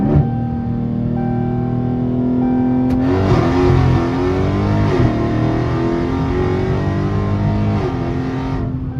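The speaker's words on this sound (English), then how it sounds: "So y'all can see how fast the car shifts to the next gear, and it just jump out real hard." A Dodge Scat Pack with the 392 engine launches hard from a roll in first gear, its loud, close V8 roar climbing steadily and then dipping at quick gear shifts around the third and eighth seconds, with no talking.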